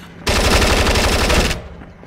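A turret machine gun in the Splinter Cell Chaos Theory video game fires one sustained, loud burst lasting over a second, a continuous rapid rattle that cuts off sharply and leaves a brief fading tail.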